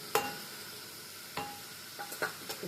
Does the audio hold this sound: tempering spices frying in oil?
yes